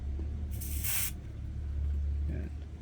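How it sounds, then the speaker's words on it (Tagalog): White lithium grease sprays from an aerosol can in one short, sharp hiss of about half a second, close and loud, with a faint second puff near the end. "white lithium grease. So this is sort of grease where when I spray it"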